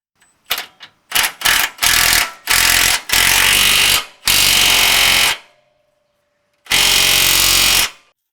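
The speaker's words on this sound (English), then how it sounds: "I'm gonna go ahead and tighten the lower control arm now with a 21mm and 24 on this side." Lower control arm bolts on a Jeep Gladiator being tightened with 21mm and 24mm sockets: loud, close bursts of a power tool, several short stuttering hits then longer sustained runs separated by pauses.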